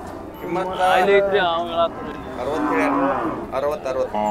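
Loud, drawn-out moos from Khillar cattle sound close by, several calls in succession with brief pauses, amid a busy crowd at the Sangola cattle market.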